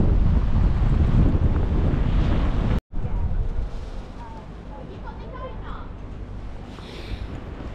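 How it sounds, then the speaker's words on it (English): Strong wind on the Essex coast blasts across the microphone in heavy rumbling gusts, briefly cutting out, then easing a little as a voice speaks faintly underneath. "My God, it's so windy."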